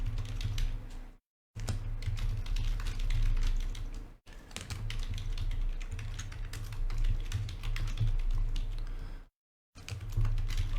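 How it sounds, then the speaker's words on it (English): Steady clicking of computer keys being typed, close and continuous, with a couple of brief pauses and a low hum underneath. "let me start typing in our players"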